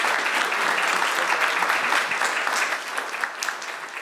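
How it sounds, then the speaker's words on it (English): Audience applause at a town hall event: a dense, steady wash of clapping from a seated crowd, loud and continuous, easing slightly toward the end, with no speech over it. "Now's the time we can give a round of applause."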